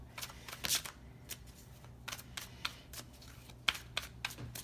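Tarot cards being shuffled by hand at close range, with a series of quick riffling flutters and soft taps in irregular bursts, fairly quiet and without talk.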